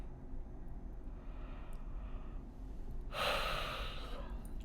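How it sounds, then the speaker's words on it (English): A person draws one slow, audible breath close to the microphone, a soft airy inhale that swells near the end in a quiet room. "I'm just taking a breath."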